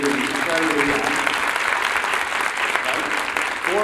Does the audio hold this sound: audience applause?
yes